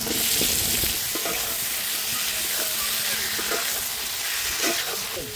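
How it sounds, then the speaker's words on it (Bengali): Tomato sizzles loudly in a hot pan with spices, a dense close frying hiss broken by repeated stirring scrapes and taps. "এবার টমেটোটা দিয়ে দিচ্ছি"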